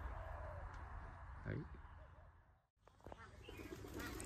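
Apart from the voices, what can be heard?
decoy birds calling while fighting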